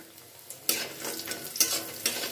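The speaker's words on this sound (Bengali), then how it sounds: "এবার আমি কিছুটা বড়ি তেলের মধ্যে ভেজে নিচ্ছি।" Bori lentil dumplings frying in hot oil in a wok, a steady crackling sizzle with louder bursts as pieces go in and are stirred, close and alone without talk.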